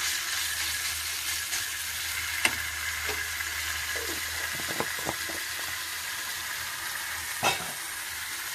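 Ginger-garlic paste frying in a pan, with a steady close sizzle throughout, a few stirring scrapes and knocks against the pan, and no talk.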